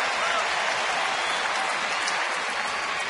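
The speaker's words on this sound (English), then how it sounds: "That put a ripple through this crowd, as Fielder can do" Stadium crowd noise at a Milwaukee at Houston baseball game in 2010, rising in a broad, steady murmur and cheer as the batter takes a big cut. The roar is continuous and fairly loud, with no one speaking over it.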